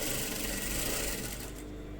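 A sewing machine runs steadily, stitching the top and bottom edges of a blouse front piece with a continuous close whirring hum that eases slightly toward the end; no voices.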